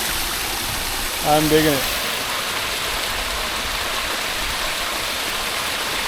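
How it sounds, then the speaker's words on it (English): Water runs steadily over rocks set in a backyard pond, a continuous broadband rush heard close up, with a man's brief spoken remark and a short tonal sound rising above it near the start. "I put these rocks here to just kind of direct the water a little more that way, but that is a good flow right there"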